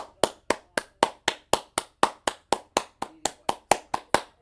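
A single person claps hands in a steady, even rhythm, about four sharp, close claps per second, each crisp with a quick decay, with nothing else heard.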